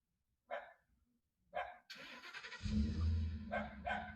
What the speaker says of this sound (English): New puppy, always bark.